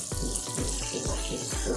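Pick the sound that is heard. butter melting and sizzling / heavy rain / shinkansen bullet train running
butter melting and sizzling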